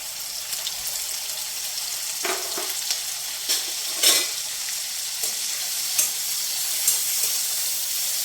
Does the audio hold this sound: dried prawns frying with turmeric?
yes